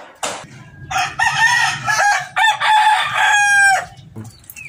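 A fighting gamecock with a cyst on its breast crows loudly and close, a long harmonic cock-a-doodle-doo broken by short clucks and squawks, with no talk over it.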